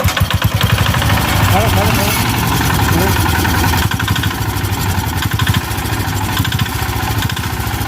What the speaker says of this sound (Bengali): দে স্টার্ট দে ভাই দে স্টার্ট দে